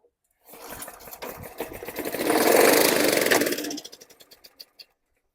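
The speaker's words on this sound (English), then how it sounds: "the exhaust has got a funny noise, a little puh puh puh puh puh" A junk lawn mower engine runs rough for a few seconds, its exhaust sputtering and popping, swelling louder mid-clip before dying down to a few isolated puffs; no talking.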